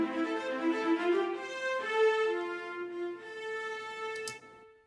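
Long sustained orchestral notes from a virtual orchestra sample library, with stacked harmonic chords holding and shifting through several changes, a small bright accent near the end before the sound fades.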